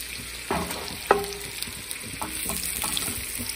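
Onions sauté in a pan with a steady close sizzle, broken by a couple of sharp clinks and light stirring scrapes.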